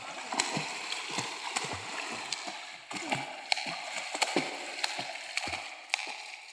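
Children swim in water, kicking up a string of irregular splashes and slaps, some sharp and close, with voices calling intermittently between them.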